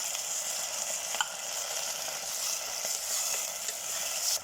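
Garlic, tomato and Century canned tuna sautéing in a pan, a steady close sizzle and hiss with occasional faint clicks of stirring throughout.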